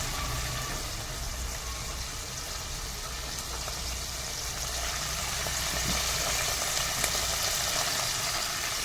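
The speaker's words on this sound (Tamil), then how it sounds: "வெள்ளைப்பூடி, இஞ்சியையும் போட்டு நல்லா வதக்கிடுவோம்" Onion, tomato, coconut, garlic and ginger sautéing in a pan for fish curry, producing a steady, fairly loud sizzle that holds evenly across the whole stretch.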